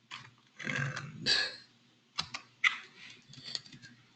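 Quiet bursts of typing on a computer keyboard, irregular clusters of key clicks and a few separate taps in a hushed room, with no talk.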